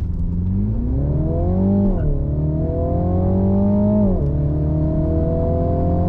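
A Mini John Cooper Works Countryman engine is held at high revs in launch control, a loud, close, steady drone that climbs twice and then settles into a sustained hum.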